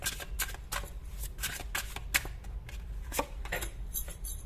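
Tarot cards shuffled by hand in a quick series of crisp riffling bursts, steady and close, with no talking over them.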